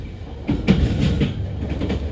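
Sawung Gali train at Kutoarjo station: a brief, close, low rumbling roll of railway cars with faint clacking, heard alone without talk.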